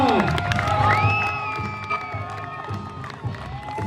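A crowd at an obstacle race cheers and whoops for a passing participant, loud and sustained, with voices shouting within the cheering.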